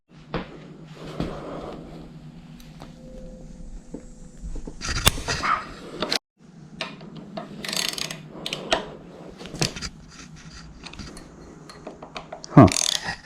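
Ratchet socket wrench with a 6 mm socket loosening handlebar bolts on a 2022 Honda Grom, giving close, loud bursts of rapid clicking with clunks and metallic handling noises throughout.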